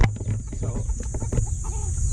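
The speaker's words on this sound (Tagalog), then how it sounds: "yung unang vlog ko, mga manok, ito na sila." Chickens on a small backyard flock clucking close by, a few short overlapping calls and cackles over a faint steady hum.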